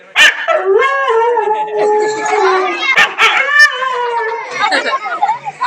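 A voice imitates a dog, giving a long howl followed by sharp barks and yips, close and loud.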